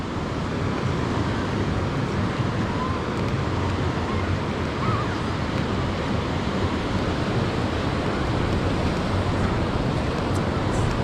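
Steady surf washes onto Echo Beach in Canggu, Bali, a broad, continuous roar of waves with some wind, filling the whole stretch without any talking.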